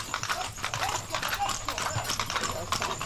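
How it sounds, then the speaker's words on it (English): A horse's hooves clip-clop steadily on a hard surface near Edfu Temple in Egypt. Several people talk over the continuous, close hoofbeats. "this is the horse"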